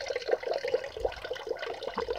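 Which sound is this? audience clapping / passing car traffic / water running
water running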